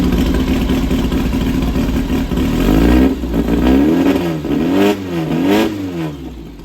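An engine breathing through a vintage Supertrapp Superlight muffler revs repeatedly in short, raspy blips that rise and fall over a steady idle, loud and close with no talking.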